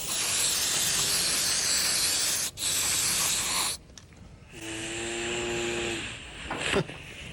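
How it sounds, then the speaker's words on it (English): Aluminium spray hisses from an aerosol can in long, loud bursts with a brief gap, then a quieter broadband hiss continues near the end without talk. "There we go, bit of aluminium spray."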